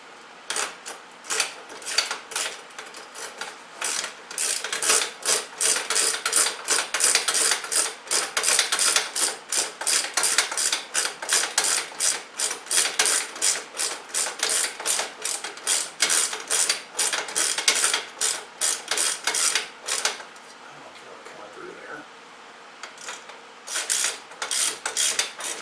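A ratchet tightens a rear rack bolt on a Suzuki VanVan motorcycle, with rapid close ratcheting clicks repeated in quick strokes over a long stretch, pausing briefly near the end before resuming.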